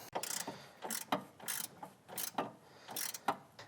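A hand ratchet tightens a bolt on a Subaru WRX intake bracket, giving quick bursts of faint, close clicking in an uneven back-and-forth rhythm, about eight strokes.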